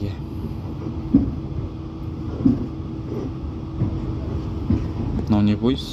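A train rumbling along the tracks at a station, with a steady low roar, a few soft clunks and a brake squeal near the end. Someone speaks over it.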